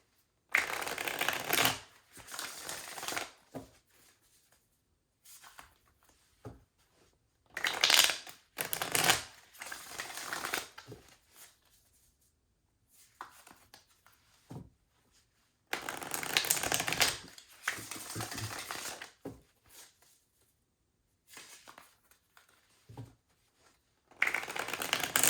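A 1975 US Game Systems tarot deck being shuffled, with repeated bursts of riffling and card slaps separated by short pauses, close and fairly loud, and no one speaking.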